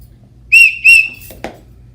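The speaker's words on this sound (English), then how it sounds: "finally he remembered the magic whistle" Two short, shrill whistle blasts in quick succession, followed by a soft knock, close and clear against a quiet background.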